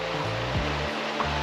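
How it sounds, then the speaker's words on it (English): Mountain river flowing steadily beside a car park, a soft continuous rush of water with low rumble, fairly faint and unbroken. "Lovely flowing river, mountains."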